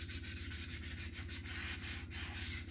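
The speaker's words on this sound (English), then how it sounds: "I normally like to use just sandpaper because it's easier to get into the holes, into the turns." Hand sanding a painted Guitar Hero guitar body with 320 grit sandpaper gives a steady, close, rhythmic rasp of rapid back-and-forth strokes, faint and continuous with no talk.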